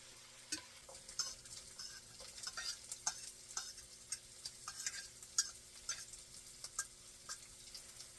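Onions cooking in a pan, a faint close sizzle with light ticking pops and the scrape and tap of stirring scattered across it.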